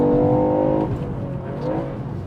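A Ford Puma ST's engine drones steadily while cornering on a track, a close, loud, sustained tone that eases off partway through and then rises slightly again.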